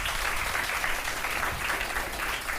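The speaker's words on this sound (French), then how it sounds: "On les applaudit, s'il vous plaît." An audience at a youth talk event claps together, a short burst of dense, even applause at a steady loud level.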